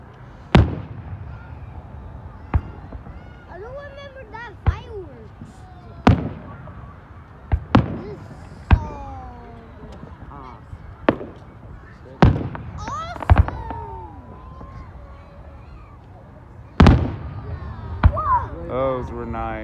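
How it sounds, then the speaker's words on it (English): Fourth of July fireworks exploding, a dozen or so sharp booms at irregular intervals, some followed by crackling and whistling trails, with people chatting between and over the bursts. "They're gonna start shooting off a lot of them right now."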